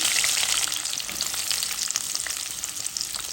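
Onion and tomato fry in hot oil in a pan, a loud, dense, crackling sizzle that stays bright and steady throughout with no voices over it.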